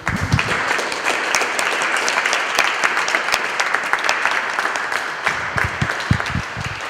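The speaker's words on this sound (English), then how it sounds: "let's give a round of applause to our two speakers" An audience claps for two speakers at the close of a lecture on shopping, hacking and DIY biology: dense, steady applause from many hands, sustained for several seconds with no talking over it.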